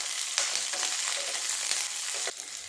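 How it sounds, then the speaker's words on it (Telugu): Green chillies torn in two fry in a pan with a bright, close sizzle and a few quick stirring scrapes over a brief moment. "ఇప్పుడు పచ్చిమిరపకాయలు ఇలా 2గా తుంచి వేసుకొని 2 నిమిషాలు వేయించుకోవాలి"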